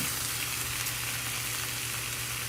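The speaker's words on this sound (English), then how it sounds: "So my onions have gotten nice and soft. And so now I'm gonna go ahead and add in my ground beef." Ground beef frying among softened onions in a hot pan while cooking Philly cheesesteaks, giving a steady, close, even sizzle and crackle with no talking.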